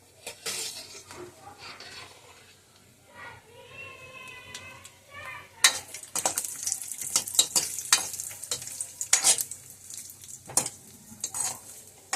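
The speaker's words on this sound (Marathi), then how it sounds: "पहिलं आपण जरा खोबरं भाजून घेऊयात" Grated coconut is dry-roasted in a pan, first under a person talking, then as a run of close, busy scraping and clinking stirs with a light crackle.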